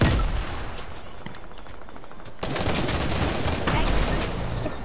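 Fortnite squad match with bursts of automatic gunfire and rapid shots throughout, growing louder and denser in the second half, with players talking over the shooting.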